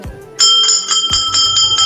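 A temple bell rings inside the Durga cave temple at Ramgarh in Surguja, Chhattisgarh, starting with a bright metallic clang, then repeated struck strokes that ring close and loud over a low murmur.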